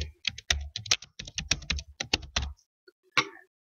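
Computer keyboard typing while adding text in a photo-editing program: rapid bursts of close, crisp key clicks with short pauses, then a brief gap and one final tap.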